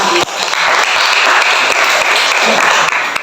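Dense, steady applause from a crowd, many hands clapping continuously at close range with no talking.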